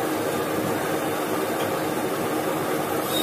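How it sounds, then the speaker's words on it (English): Electric motor running under an SCR voltage regulator speed control, giving a steady, even hum with broadband whir, constant in level and close throughout. "as you can see that the motor has started operating"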